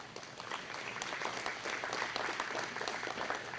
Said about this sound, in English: give a round of applause to Linda's Cakes and Catering for the good meal that we had tonight